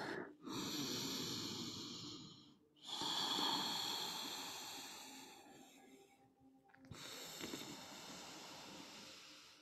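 Slow, deep breaths during a yoga flow, probably through the nose, with long airy inhales and exhales in three separate waves broken by short pauses. They are close and quiet, with no speech.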